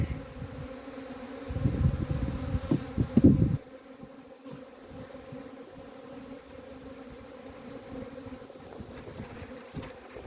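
Agitated Buckfast honey bees swarm loudly around an opened hive, their dense buzzing heavy for a few seconds before settling into a steady, quieter drone.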